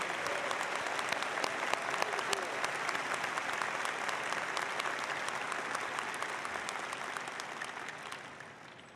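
Sustained audience applause at an undergraduate commencement ceremony, a dense steady wash of clapping from a large crowd that holds for about nine seconds before starting to taper.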